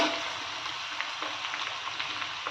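Green chillies frying in very hot oil for tomato rice, a steady close crackling sizzle with small popping spits scattered throughout, no voices.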